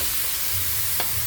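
Pork meat fries in a pan while being stirred, a brief close sizzle with a soft scrape of the utensil and no voices.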